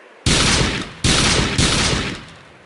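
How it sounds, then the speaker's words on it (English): Three loud, booming AA12 shotgun blasts in the DayZ video game, fired in quick succession, each with a sharp onset and a short decaying tail. "you hear the AA12 shotgun rounds as well"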